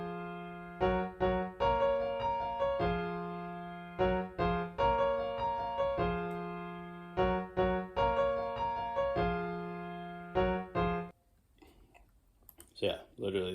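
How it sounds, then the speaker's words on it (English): Piano arpeggio pattern from a bouncy orchestral beat: repeating plucked note figures in short bursts with gaps, clean and close, ending in a brief rustle after about eleven seconds. "this is the pattern for the piano"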